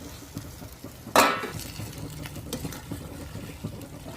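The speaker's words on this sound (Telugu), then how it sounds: "ఒకసారి తిప్పేస్తూ జస్ట్ వన్ మినిట్ మూత పెడదాం" A lid set onto a pot of vegetable curry, one sharp metallic clank near the start followed by faint scraping and light clinks, close and fairly quiet.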